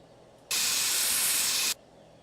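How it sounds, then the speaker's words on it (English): A spray paint can in the video game My Summer Car spraying a car panel: one loud, steady hiss lasting a little over a second, starting and stopping abruptly. "I've never used the spray paint."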